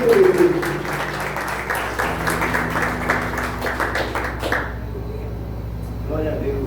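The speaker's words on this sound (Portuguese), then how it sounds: "Você pode aplaudir ao Senhor?" A church congregation claps during a Sunday worship service, a steady patter of hands with music and voices running underneath, thinning out toward the end.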